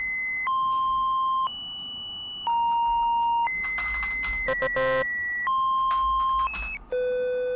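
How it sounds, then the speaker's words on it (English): A ringing phone inside a horror video game set alone in a forest, sounding as a loud, steady electronic tone pattern that steps between pitches in repeated segments, with a brief buzzy burst midway and no talk. "Oh, the phone is ringing."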